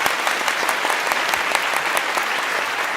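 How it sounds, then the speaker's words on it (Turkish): A studio audience at a Turkish word game show claps for a finalist contestant, a dense, even burst of applause lasting a few seconds without pause. "O zaman hadi bir birlikte alkışlayalım kendisini."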